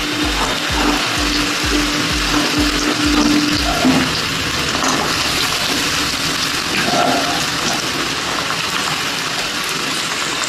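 Carrots and beans frying in white oil in a pan for fried rice, a steady hissing sizzle throughout, with a few soft rhythmic thumps early on, close and fairly loud, no talk.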